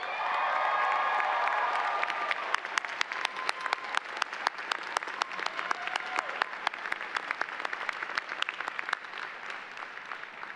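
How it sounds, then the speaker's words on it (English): Applause fills a hall at a medical college hooding ceremony, first a dense roar of many hands, then it thins into a lighter run of separate, crisp claps with light crowd murmur. "you've got more clapping"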